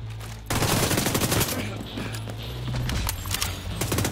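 Bursts of gunfire ring out during a firefight in The Division 2, rapid overlapping shots layered with game effects and hard impacts after a short quieter opening.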